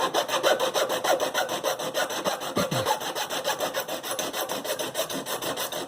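A metal file rasps steadily across guitar fret ends, bevelling them in repeated rhythmic strokes, close and moderately loud throughout with no talking.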